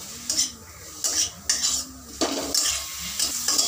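Grated carrots being stirred with sugar and salt in a pan: repeated rhythmic metal scrapes of a spoon against the pan, about five strokes, over a soft background sizzle.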